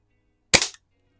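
One short, sharp pop of a BB air rifle going off, close and fairly soft, in otherwise quiet surroundings.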